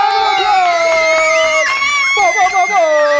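Loud audience cheering and shouting with children's voices on a studio quiz show, a brief bright burst of excited whoops and screams lasting a few seconds.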